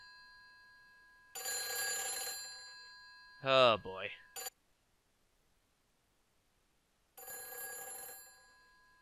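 A telephone rings in the horror video game Silent Hill 3, two bursts of bright electronic ringing several seconds apart, with someone speaking briefly between them.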